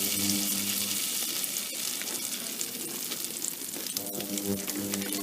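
Butter melts in a pan over low heat with a close, continuous bright sizzle and crackle, punctuated by a couple of brief louder spits, and no talking.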